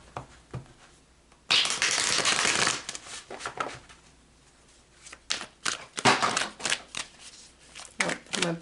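Tarot cards shuffled by hand in repeated bursts of crisp riffling and flicking, loudest in two long flurries with softer card handling between, close and alone without talk.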